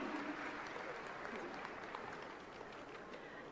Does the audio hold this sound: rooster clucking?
no